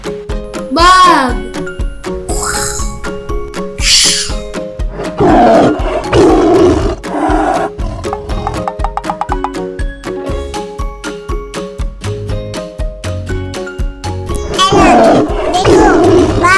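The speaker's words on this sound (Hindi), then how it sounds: "बाघ।" A tiger at a zoo gives several loud, close roars spread through the stretch, with children and an adult talking excitedly between and over them.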